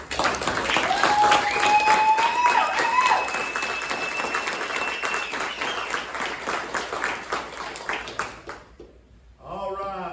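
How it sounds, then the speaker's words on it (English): Audience at a regional Blueprint meeting in 2025 applauds a man, with sustained clapping and some cheering and whistles over about eight seconds before it fades and talk resumes. "David Carter, y'all applaud that man"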